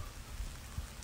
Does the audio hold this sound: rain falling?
yes